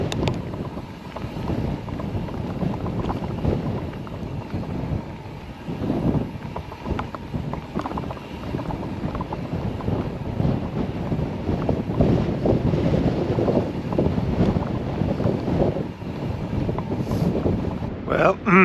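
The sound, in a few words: wind blowing on a mountain ridge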